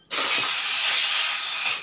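An aerosol spray can sprayed onto a Honda Beat ECO motorcycle in a repair shop: one steady, loud hissing burst lasting just under two seconds.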